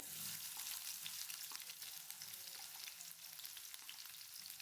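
Onions dropped into hot oil in a pan sizzle and fry loudly and continuously, a dense crackling hiss with faint stirring scrapes, close up.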